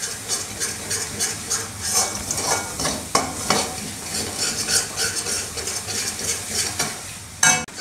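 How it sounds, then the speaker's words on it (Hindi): Metal spoon scraping and stirring masala with black pepper powder as it roasts in a pan for baingan bharta, steady gentle sizzling with continuous rhythmic scrapes, close and moderately loud. "तो इसे लगातार चलाते हुए हमें बहुत अच्छे से रोस्ट करना है।"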